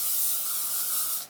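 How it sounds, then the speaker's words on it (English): Hairspray hisses from an aerosol can onto curled hair in one steady, close, loud burst of just over a second. "I always just put a bit of hairspray on"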